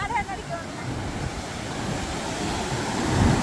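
Sea waves wash onto the shore in a steady rolling surge mixed with wind buffeting the microphone, rising slightly toward the end.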